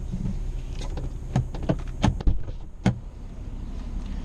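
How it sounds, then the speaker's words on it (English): Inside a 2017 BMW 440i, a series of sharp clicks and thuds from the door and the motorized seat belt presenter sound close by, spaced irregularly over a low cabin hum. "this is me entering the car again. And this is the seat belt being delivered to me."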